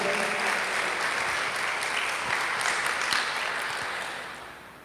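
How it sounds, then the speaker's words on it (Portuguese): A church congregation applauds in a dense, even wash of clapping that holds steady, then fades toward the end. "Vamos dar uma salva de palmas para Jesus?"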